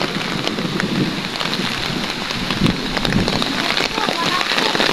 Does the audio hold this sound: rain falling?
yes